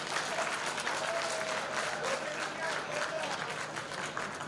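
An audience in a hall applauds steadily, a dense wash of clapping that holds at an even level for several seconds, with faint voices mixed in underneath.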